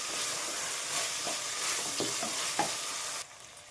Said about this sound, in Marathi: दोन मिनटासाठी हे फ्राय होतात